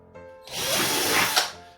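A power drill deburring a drilled hole in a shell whirs up briefly, a high buzzing spin lasting about a second before cutting off.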